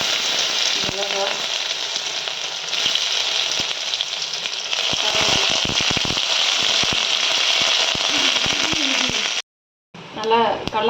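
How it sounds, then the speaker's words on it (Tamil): Dried chillies and chana dal fry in hot oil. A dense, bright sizzle crackles steadily with sharp pops, then cuts off briefly before a voice speaks over renewed frying. "நல்லா கடலைப்பருப்புலாம் ஃப்ரை ஆயிடுச்சு."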